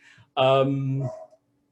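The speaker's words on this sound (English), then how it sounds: "I'm gonna have to close this in case you're hearing a crazy dog" A single loud, close dog bark or whining yelp lasting under a second in a quiet room, with a faint voice just before it.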